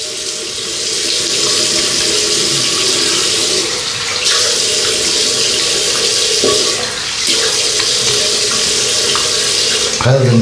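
A single edge safety razor being rinsed under a running tap, with a steady loud rush of water that briefly dips and changes as the blade moves through the stream.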